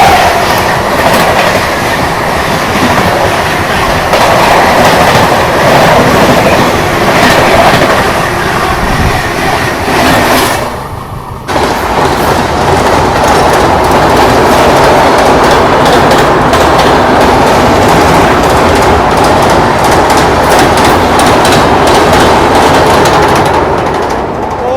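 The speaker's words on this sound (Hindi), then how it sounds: "पैरेलल ओवरटेक मार गई भोपाल शताब्दी" A Bhopal Shatabdi train rushes past on the parallel track, a loud continuous roar with rapid rhythmic clatter of wheels that briefly dips and then surges again, heard from close by aboard another moving train.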